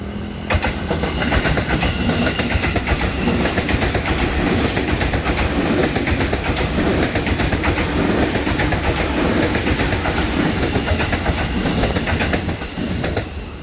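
A train rumbles past close by, with a steady clattering of wheels on rails that holds loud for the whole stretch before easing slightly at the end.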